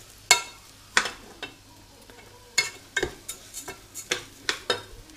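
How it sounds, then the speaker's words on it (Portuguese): Rice frying in a pan during a holiday cooking session, with a steady soft sizzle punctuated by a series of sharp utensil scrapes and stirring clinks against the pan, close and fairly quiet. "Vou deixar dar uma fritada aqui o arroz"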